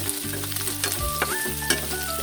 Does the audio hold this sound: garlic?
yes